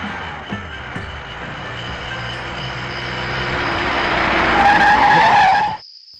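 A car skids to a stop on a road, a long rising tire screech with engine rumble that builds in loudness and then cuts off abruptly, with no talk over it.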